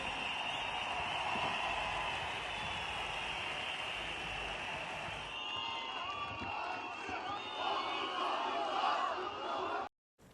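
A huge protest crowd of tens of thousands gathers outside Istanbul's municipal headquarters. Its dense, continuous roar of voices and cheering carries on steadily throughout, with shouts and whoops rising out of the mass.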